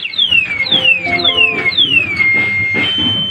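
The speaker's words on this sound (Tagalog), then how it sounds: "hindi lang po siya basta alarm, meron din po siyang, kumbaga nag-a-alarm siya habang naglalak po yung mga gulong natin" A Red Star ebike's anti-theft alarm sounds loudly and close, repeating rapid descending electronic whoops one after another, then holding a steady tone at the end.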